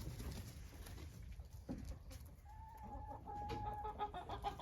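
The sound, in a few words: hen clucking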